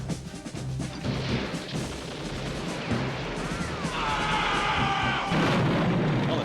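Gunfire and crashing blasts in the video game Sly 2: Band of Thieves, a dense, continuous barrage of booming shots and impacts at steady loudness, ending with rising whooshing tones.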